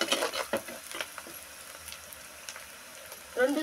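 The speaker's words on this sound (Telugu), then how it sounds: "ఇప్పుడైతే ఈ ఉల్లిగడ్డలు వేగాలండి బాగా" Sliced onions sizzle softly in a pan for mutton bone soup, with a few light stirring scrapes near the start and a brief louder scrape at the end, no talking.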